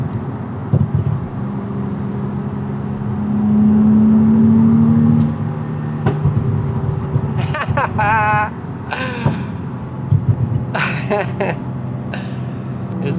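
A Nissan 350Z with a pops-and-bangs tune, revved in third gear: a rising engine drone holds for a couple of seconds, then sharp exhaust pops and crackles burst out on the overrun, with someone talking in between.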